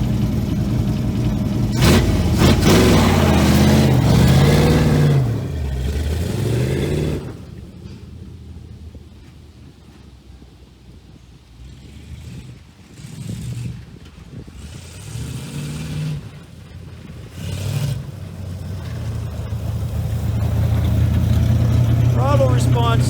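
A Ford Mustang Mach 1 engine revs loudly and rises and falls in pitch early on, drops back to a quieter idle in the middle, then builds again toward the end, with someone talking over parts of it.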